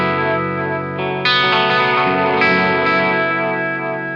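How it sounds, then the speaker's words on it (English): Electric guitar run through an Eastwood Black Box mag delay pedal with modulation, its repeats set somewhere between 35 and 600 milliseconds, sounding as a loud, sustained, shimmering chord wash with new strums entering near 1.3 and 2.4 seconds, no talk. "the mag delay goes from 35 milliseconds to 600 milliseconds"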